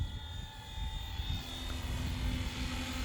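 A Flywing FW450 RC helicopter hovers with a steady whirring drone and a faint high whine, holding at a constant, fairly close level for the whole stretch with no voices.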